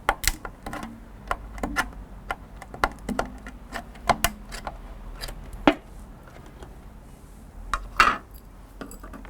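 A paint stirrer works through wood paint in a tin during decking maintenance, giving scattered close knocks and scrapes against the metal sides at an uneven pace, with no one talking.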